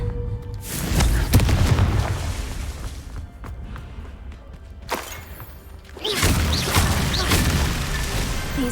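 A Confringo blast spell cast in a Harry Potter video game sets off loud, deep booming explosions, with a burst near the start and another swelling impact after a brief quieter lull, over continuous game background.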